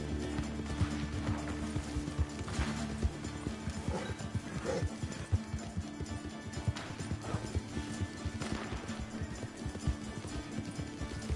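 Horse hooves gallop in Red Dead Redemption 2 multiplayer, a continuous rapid clip-clop of riding with occasional whinnies and game effects layered in, steady and moderately loud, with no talk.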